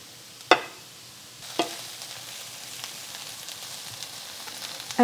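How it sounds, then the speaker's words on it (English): Bell peppers and onions sizzle and fry steadily in a pan, with a few sharp clicks and clatters of utensils near the start and end. "So I let this fry now for a while"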